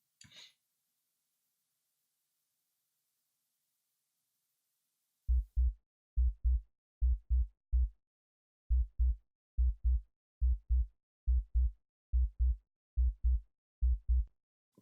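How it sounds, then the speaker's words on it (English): A sub bass layer under an EDM kick drum thumps as short, deep, punchy hits, mostly in pairs, in a steady loop after a brief silence, close and isolated. "We've got our sub track,"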